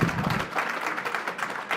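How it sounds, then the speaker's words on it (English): Applause from a conference panel audience of political conservatives, a dense, steady wash of clapping across the room that holds at an even level throughout with no voices over it. "Can I hear you applaud, please?"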